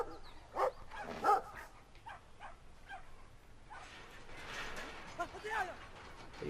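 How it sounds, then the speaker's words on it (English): A small dog in the video game Brothers: A Tale of Two Sons gives a few short, sharp barks and yips at close range, with a whimper in between and a voice talking faintly over it. "Are you seriously scared of this little ass dog?"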